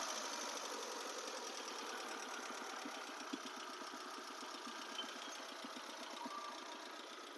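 A 2012 Hyundai Santro car engine idles with a steady, faint mechanical hum and a fine rapid ticking pulse, continuous and even throughout with no voices.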